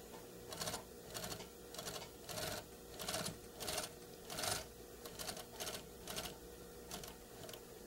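A sewing machine stitching a collar and bias trim onto a garment's neckline, running in short rhythmic bursts of about a dozen runs separated by brief pauses, close and alone.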